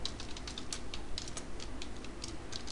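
Steady, rapid clatter of keys on a computer keyboard as Java code is typed, close and fairly quiet, continuous irregular taps with no talking.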